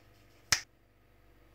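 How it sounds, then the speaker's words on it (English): Two crisp, isolated finger snaps about a second apart, close and fairly quiet against near silence, made while preparing a summer salad in a kitchen. "what you have to do is snap your fingers,"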